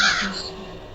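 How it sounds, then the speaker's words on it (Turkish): A crow caws once in the horror video game Granny, a loud, harsh call at the start that trails off into a lingering, fading tone. "Karga saldırıyormuş bize."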